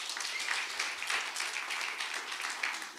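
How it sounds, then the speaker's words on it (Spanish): Church congregation applauding a visiting pastor, a continuous crowd clapping that sounds somewhat distant and moderately quiet, sustained evenly for a few seconds. "Así que un fuerte aplauso para nuestro hermano."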